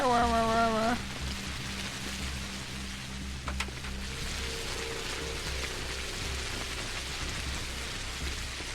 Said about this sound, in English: enjoy the soothing sounds of the rain